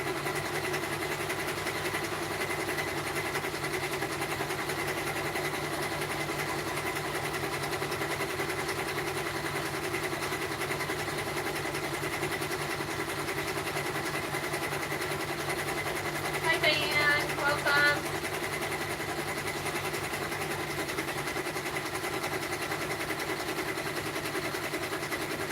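Three embroidery machines run together in a home workspace, a continuous quiet mechanical hum with steady tonal drones and a rapid stitching buzz, a brief clatter rising midway.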